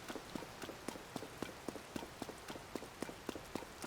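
Horse hooves gallop across the ground in Zelda: Tears of the Kingdom, a steady run of sharp clip-clop strikes with rain-like patter behind them and no talking.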